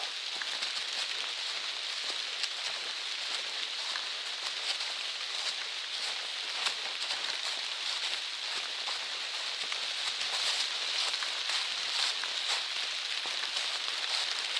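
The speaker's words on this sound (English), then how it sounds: "It's starting to rain harder" Rain falls hard on a forest hiking trail along the Appalachian Trail, a dense, steady hiss of drops pattering on leaves and surfaces, unbroken and fairly close, with no talking.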